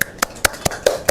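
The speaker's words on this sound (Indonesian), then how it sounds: "Tepuk tangan dulu" A few people clapping for students at a high school podcast gathering, six sharp, evenly spaced claps over about a second, close and fairly quiet, with no voices.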